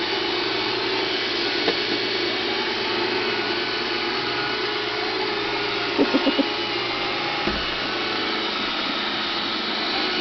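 A robot vacuum cleaner called Bob running with its side brush sweeping along baseboards and corners, a steady low motor hum throughout with a few faint clicks and taps.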